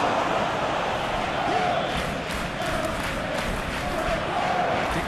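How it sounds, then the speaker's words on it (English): Football stadium crowd at a Premier League match roaring steadily in response to a scoring chance, a dense, loud wall of cheering and shouting that holds throughout without letting up. "the crowd clearly like what they just saw"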